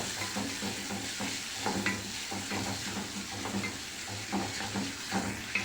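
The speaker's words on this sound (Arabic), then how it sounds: "نحمر هنا البصله" Chopped onion sizzles steadily in a pan with little fat, with soft stirring scrapes and occasional utensil clicks over the constant frying hiss.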